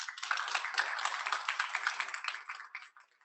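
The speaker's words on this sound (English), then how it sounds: "If we could give him a round of applause." A modest audience at a pitch competition applauds its sponsor, clapping that is quiet and somewhat thin yet steady, tapering off toward the end.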